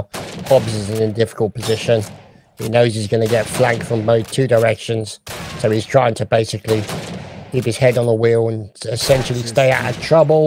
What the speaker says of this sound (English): you can hear the bullets just winging past his head right now